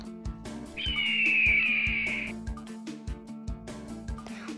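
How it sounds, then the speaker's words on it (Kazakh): A single sharp eagle cry rings out as a sustained, slightly falling screech over upbeat background music with a steady beat. "Бүркіт."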